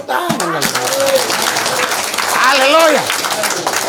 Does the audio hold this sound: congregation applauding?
yes